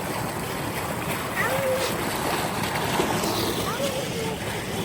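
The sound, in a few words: waterfall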